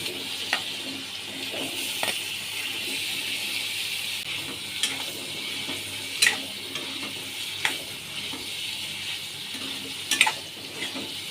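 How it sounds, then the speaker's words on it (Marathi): Paneer fries lightly in a spoonful of Amul butter in a heated kadai, producing a soft continuous sizzle punctuated by sharp clinks and scrapes of a stirring spoon against the pan. "हे पनीर आपण हलकंसं फ्राय करून घेणार आहोत."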